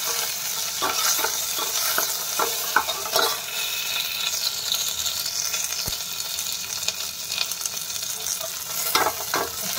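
Spices and curry leaves sizzle and crackle in hot oil for a dal tempering, with a steady hiss and scattered pops and clinks of stirring, close up and without talking.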